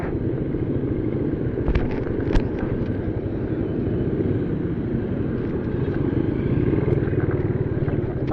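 Suzuki Raider 150fi motorcycle engine running steadily nearby after an oil change, a continuous loud drone with a few sharp clattering ticks early on and no voices.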